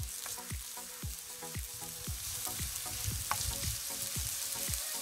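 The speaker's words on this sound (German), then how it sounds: "In einer Pfanne haben wir 2 gute Esslöffel Olivenöl erhitzt. Da rein geben wir nun die Zwiebeln." Chopped onions sizzle in two tablespoons of hot olive oil in a pan, a steady close frying hiss with regular scraping stirs about every half second, and no one speaks.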